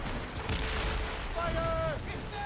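Ship cannons fire during a naval battle in Assassin's Creed Rogue, a thick rolling barrage of booms, with a shouted voice rising briefly over the gunfire.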